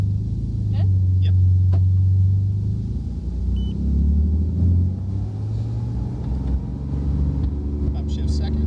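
A Porsche 911 GT2 RS engine gives a deep, loud rumble as the car pulls away on a racetrack, with the engine sound rising and falling while people talk over it.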